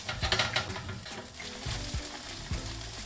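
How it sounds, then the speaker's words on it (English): Steady close sizzling of kebabs on a hot grill, with occasional sharp crackles and shifts as pieces are moved or turned. "you can see the kebabs are nice and sizzling"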